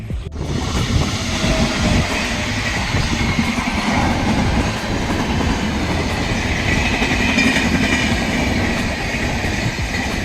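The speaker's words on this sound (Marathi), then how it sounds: "इंजिन येतं का ट्रेन येते, पूर्ण ट्रेन यायला पाहिजे." A full train pulling into a station in the Kasara ghat area, a loud, close, continuous rumble of rolling wagons with rhythmic clatter of wheels over the rail joints, sustained throughout with no talking.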